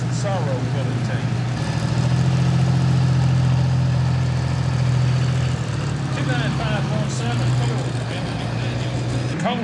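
A pulling tractor called Orange and Dangerous, driven by Cole George, roars loudly at a night truck and tractor pull in Ardmore, Tennessee. Its deep, steady engine drone holds throughout while an announcer talks over it.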